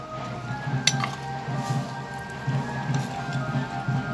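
Mutton biriyani with ghee being stirred in a clay pot, soft scraping and clinking of a utensil recurring in a slow rhythm over a low background sizzle, fairly quiet and close.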